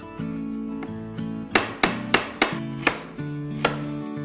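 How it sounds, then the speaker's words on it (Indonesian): Knife chopping garlic and shallots on a board: a run of sharp, close taps at an irregular pace over a steady musical background. "Saya akan rajang bawang putih dan bawang merah."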